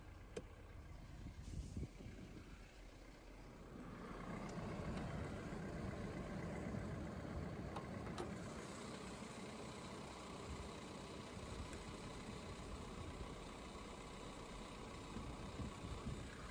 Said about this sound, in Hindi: तो ये है 2600 CC inline four cylinder Mercedes derived F M two point six C R E D turbocharge intercooled diesel engine